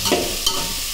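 Three large, finely chopped onions frying in a pan for a fish curry: a brief close sizzle with two quick stirring scrapes, no voices.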